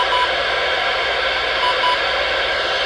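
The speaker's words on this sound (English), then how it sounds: "You can hear the static." Weather radio static with no signal while cycling through channels: a steady, loud broadband hiss that fills the whole stretch without a break, with no talk over it.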